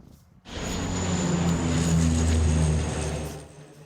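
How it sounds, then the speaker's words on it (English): Water-dumping firefighting planes working wildfires near Paris: a steady, loud propeller-engine drone that starts abruptly and holds with a broad roar before easing slightly at the end, with no talk. "Water-dumping planes are being used for the first time ever in the areas surrounding Paris."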